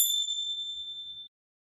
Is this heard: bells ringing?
yes